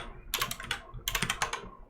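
Two quick bursts of typing on a computer keyboard, each a rapid cluster of close, crisp key clicks, with a brief pause between them and no talking.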